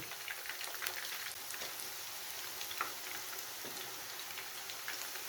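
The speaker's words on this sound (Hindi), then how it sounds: "इसी तरह ये भी हम सारे ऐड कर देंगे और फिर लो फ्लेम पे फ्राई कर देंगे" Chicken pakoras fry over a low flame, giving a gentle, constant crackle of oil with scattered small pops, quiet and close, with no speech.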